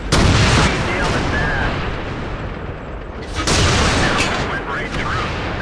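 Artillery booms in World of Tanks, two loud, heavy blasts a few seconds apart, each followed by a rumbling decay, with game ambience in between.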